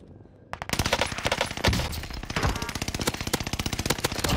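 Rapid automatic gunfire from a Cooper carbine in Call of Duty, a dense unbroken stream of sharp shots after a brief quiet start, loud and close throughout.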